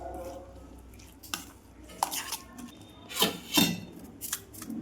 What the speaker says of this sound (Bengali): এবার সব মিক্সড করে দিচ্ছি।